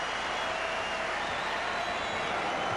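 Steady crowd roar filling the arena at the 1993 NBA Finals Game 3 between the Suns and Bulls in triple overtime, a dense unbroken wash of voices and faint applause reacting to Horace Grant leaving the floor.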